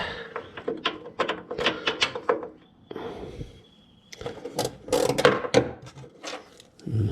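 A half-inch ratchet works a bolt on a Jaguar MKII during reassembly, giving bursts of rapid close clicking in two runs separated by a short pause, with some handling knocks.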